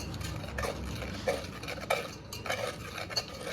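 Pitha batter being stirred in a bowl with a spoon, a series of soft scraping and clinking strokes in an irregular rhythm, close and fairly quiet, with no talk.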